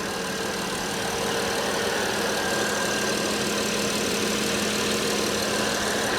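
A Porsche Panamera V6 engine idles steadily and close by, its low running note wavering slightly as it stumbles, with no talking over it.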